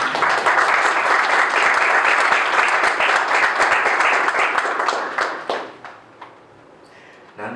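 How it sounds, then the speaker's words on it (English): Audience at a panel discussion breaks into sustained applause, dense clapping holding steady for about five seconds before thinning out and fading to a few scattered claps. "I think that deserves a round of applause."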